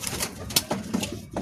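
Racing pigeons at a loft in Lucena, Quezon coo in soft, low murmurs, with a few brief rustles and faint background noise around them.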